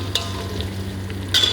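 Dried red chillies frying in a pan, a soft steady sizzle close by with a few faint stirring clinks and a brighter burst near the end.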